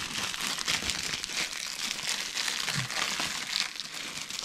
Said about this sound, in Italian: apriamo, allora facciamo l'unboxing del cetriolo